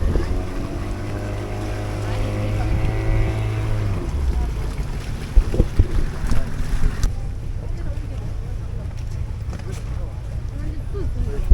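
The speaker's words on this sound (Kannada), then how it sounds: "ನಮ್ಮ ಬೋಟ್ ಬಂತು." A rafting boat on the Kaveri river at Dubare, with a low droning motor hum that fades after a few seconds into wind buffeting the microphone and water sounds, while people talk nearby.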